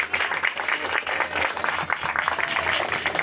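A church congregation clapping loudly and steadily, a dense sustained burst of many hands with a few voices murmuring underneath.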